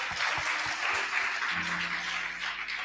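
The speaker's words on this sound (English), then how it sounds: "Let's give a round of applause there." A round of applause from the audience at a boys' summit held by a foundation, fairly faint and distant, a brief steady patter of clapping with a low hum beneath.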